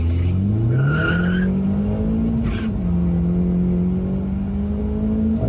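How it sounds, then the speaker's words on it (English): A tuned ex-police car accelerates hard from 0 to 60 mph, the engine note climbing through a rising pull, dipping at a gear change, then winding up again, loud and close with a brief tyre squeal. "let's do another 0 to 60 pull"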